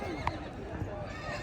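A mare at a horse market gives a short, close whinny near the start, with background voices and market bustle around it.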